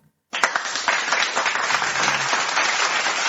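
Sudden loud applause from a podcast audience, starting sharply after brief silence and continuing as a steady, dense wash of clapping.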